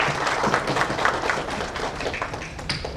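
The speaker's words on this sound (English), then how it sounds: "Let's clap for all of us." An audience claps at an education awards conclave, dense close applause with scattered sharper taps and thumps, sustained throughout with no talk over it.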